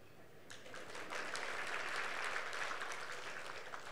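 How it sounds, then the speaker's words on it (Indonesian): A church congregation breaks into applause during a sermon: a sustained wash of clapping that starts abruptly and runs for about three and a half seconds, moderately distant and fairly soft. "Saya mau tanya, kenapa saudara tepuk tangan?"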